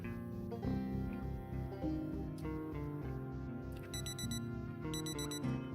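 Alarm ringing in the survival video game Project Zomboid, a rapid, bright electronic beeping pattern repeating in bursts over dense, busy game sound that runs steadily throughout.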